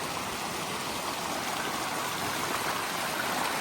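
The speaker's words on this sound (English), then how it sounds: "Crawford Pond outlet stream" Outlet stream of Crawford Pond in the wilderness, flowing steadily and vanishing into the ground, a close, continuous broadband rush of running water with no voices.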